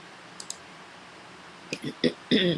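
A computer mouse gives a couple of faint clicks, then several louder clicks, with quiet room noise underneath.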